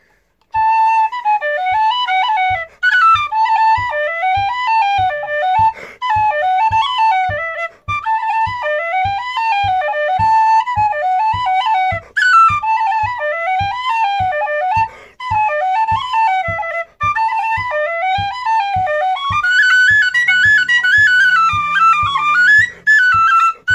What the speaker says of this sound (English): Played on a D whistle in concert pitch, a Sosato PVC whistle.